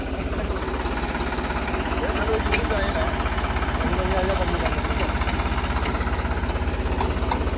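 A tractor's diesel engine idles with a steady low throb and rattle, close by, while people talk faintly over it.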